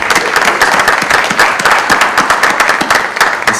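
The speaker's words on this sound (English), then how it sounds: "So let's have a round of applause for them." Enthusiastic applause from a press conference audience, dense rapid clapping that stays loud and continuous from start to finish.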